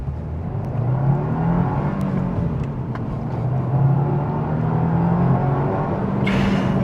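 A 2025 Subaru WRX Premium pulls away from a stop in first gear, its engine drone rising steadily and loud from inside the cabin, with a brief brighter rush of noise right at the end.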